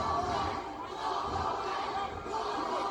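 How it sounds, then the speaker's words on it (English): A crowd at an amateur fight in Bethlehem, Pennsylvania shouts and roars in a steady wash of noise, with a commentator talking over it. "You hear the crowd shouting Fogelman."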